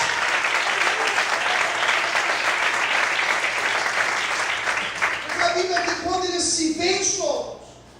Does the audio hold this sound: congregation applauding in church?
yes